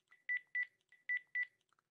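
Phone dialing sounds in the video game Brok the InvestiGator: short electronic beeps, with four louder tones arriving in two pairs between fainter blips, clear and close with no talking.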